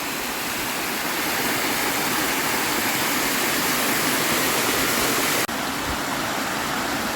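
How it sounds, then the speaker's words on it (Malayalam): A forest waterfall roars loudly and steadily, a dense unbroken rush of falling water heard up close, alone and without voices. "ഇതാണ് നമ്മളാ പറഞ്ഞ വെള്ളച്ചാട്ടമൊക്കെ എൻ്റെ ഇവിടെ നിന്നാണ് വെള്ളച്ചാട്ടം വരുന്നത്"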